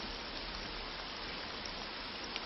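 Steady rain falls without pause, a dense even hiss with scattered drop patter, close and continuous throughout, no voices.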